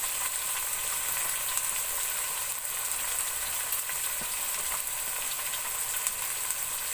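Chopped tomatoes and ground red chilli hit frying garlic in a pan for a marrow sabzi. A steady, bright sizzle carries on evenly throughout, with faint crackles and no voices.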